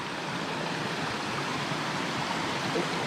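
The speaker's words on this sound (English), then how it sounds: "So this is the waterfall." A waterfall spilling over bedrock in a South Carolina stream gives a steady, full rushing roar that stays close and constant throughout with no other sounds.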